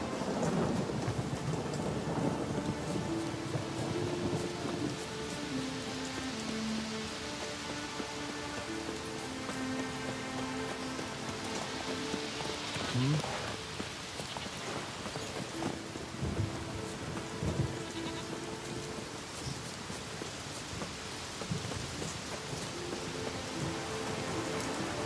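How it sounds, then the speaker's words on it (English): Rain and thunder in The Witcher 3, a steady patter of rainfall under a low rumble of thunder, with faint musical tones drifting in and out of the stormy background. "It's raining."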